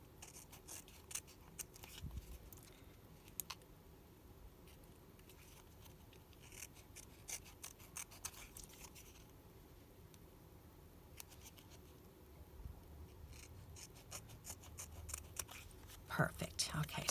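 Scissors slowly trim the excess off a piece of board in quiet, close snips and small paper-like rustles, with some soft speech.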